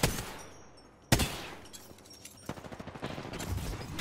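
Enemy gunfire in Apex Legends, with a sharp single shot followed by a long tail, then a rapid burst of repeated shots that runs on to the end. The shots are moderately loud and there is no talk.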